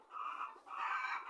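A chicken gives two drawn-out clucking calls, fairly faint and alone.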